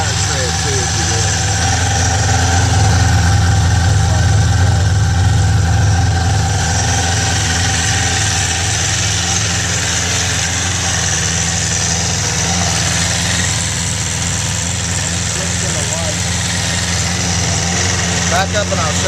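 A Suzuki Katana 600 motorcycle idles after a cold start with a steady, loud low rumble and a slightly raised, even engine note that runs close throughout without any pauses.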